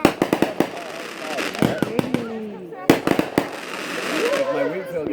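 Fireworks at a backyard 4th of July show pop in rapid bursts of sharp bangs with crackling, loud and close, as people talk and shout between the volleys.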